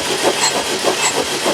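A VW T2 camper's engine cranks over on the starter for a compression test on a dead cylinder, giving a steady rhythmic churning with regular pulses, close and fairly loud, with no voices.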